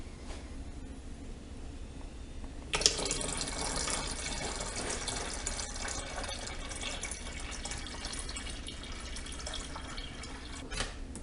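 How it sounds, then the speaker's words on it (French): Water from a tap pours steadily and close into the tank of a Babybrezza Formula Pro, starting abruptly and gushing without a break for several seconds. "je vais donc remplir de l'eau jusqu'au maximum cette fois-ci."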